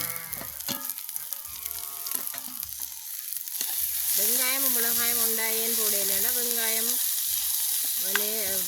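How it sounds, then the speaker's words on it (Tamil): Onions and chopped chilies fry in a pan during outdoor village cooking, giving a steady close sizzle that grows louder midway, while drawn-out warbling calls, like an animal bleating, sound repeatedly over it. "எங்களுக்கு வெங்காயம் ஓரளவு வதங்கிட்டுது நாங்கள் வெட்டி வச்சிருக்கிற மிளகாயை போடுவோம்"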